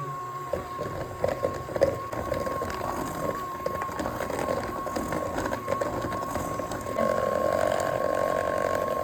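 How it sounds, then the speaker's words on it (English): An electric hand mixer beats powdered sugar frosting in a bowl, giving a steady whirring mechanical drone with rattling bits. It grows slightly louder toward the end and is heard close up without speech. "We're gonna put half in and then mix that up with our little hand mixer here."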